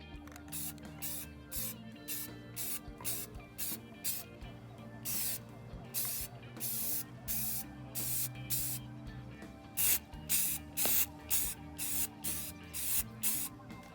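Short bursts of satin black spray paint hiss onto Jaguar XJR X350 side markers, repeated in a steady on-off rhythm of brief sprays and pauses, close and fairly loud.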